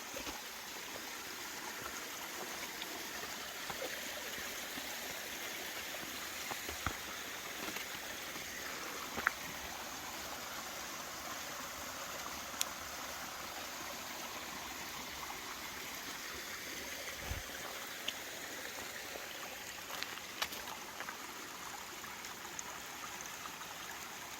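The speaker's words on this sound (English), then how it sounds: "Nice little creek." A small creek, Ivy Creek in the Shenandoahs on the Appalachian Trail, flows steadily, a soft continuous babble of water with occasional faint clicks, no voices.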